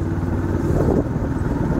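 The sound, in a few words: vehicle driving on the road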